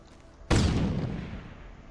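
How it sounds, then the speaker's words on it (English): A single mortar blast in the video game Wildstar: a sudden heavy boom that hits loud and then rolls away in a long decaying rumble. "in which they fire a mortar at you of some capacity"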